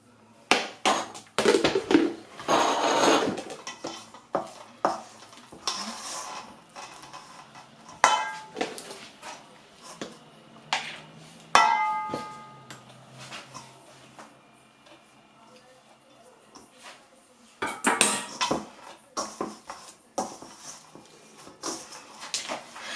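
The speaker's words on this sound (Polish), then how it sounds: "mieszamy tylko do wymieszania składników" A spoon clanks and scrapes around a bowl while mixing kefir pancake batter with apples, in uneven bursts of close clatter separated by quiet pauses.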